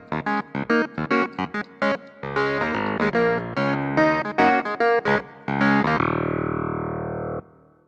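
Funk keyboard groove played with both hands, choppy syncopated chords and bass notes with a distorted, effected tone, ending on a long sustained chord; no talking.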